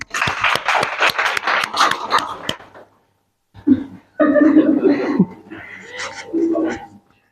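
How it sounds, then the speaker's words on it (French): A small audience claps for Ralph Smedley, Toastmasters founder, at a Toastmasters International 100th-anniversary meeting: a dense, close burst of clapping that fades after a couple of seconds, followed by a pause and then speech. "Applaudissons pour lui."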